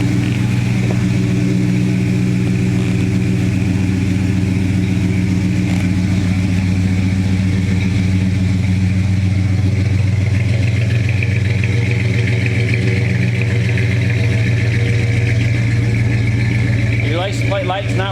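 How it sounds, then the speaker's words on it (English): A 1968 Dodge Charger engine runs at a steady, loud idle, its deep continuous rumble holding evenly from start to finish with only a slight change near the end. "Car sounds really, really nice."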